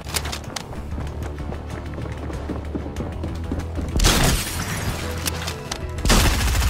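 Shotgun blasts in the video game Fortnite, with two loud bursts standing out against a busy background of footsteps and game action.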